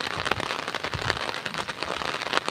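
Heavy, continuous rain falls in a dense, steady hiss of close, crackling drops with no pauses.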